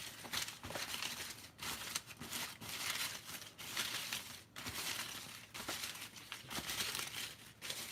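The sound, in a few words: shuffling name slips in a hat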